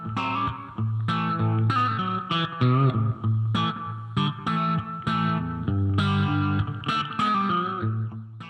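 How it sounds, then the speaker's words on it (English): Heavily distorted electric guitar through a Warm Audio Jet Phaser fuzz and phaser pedal, with a swirling phaser sweep, playing chords and riffs loudly and continuously, with no talking. "We're here to check out the warmaudio jet phaser, put it through some of the paces"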